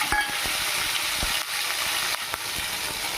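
Onion paste sizzling as it goes into hot oil in a kadai with tempering spices, a steady broadband hiss with occasional faint clinks, close and continuous without speech.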